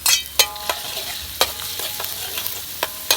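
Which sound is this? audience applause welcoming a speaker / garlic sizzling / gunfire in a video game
garlic sizzling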